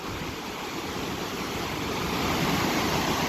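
Willow River Falls in Willow River State Park pours as a steady, loud broadband rush of falling water, close and continuous throughout with no voices.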